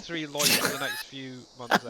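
A single quick sneeze bursts out between stretches of conversation in a farming game session, sharp and close, with a smaller catch of breath just after, people talking around it.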